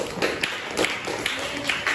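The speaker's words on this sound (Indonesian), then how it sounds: "Tepuk tangan sekali lagi buat nomor 1." Elementary school pupils in a fifth-grade religious education classroom applaud a classmate, a soft, steady patter of clapping with faint voices underneath.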